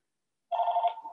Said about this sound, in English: Our phone started ringing here at the house.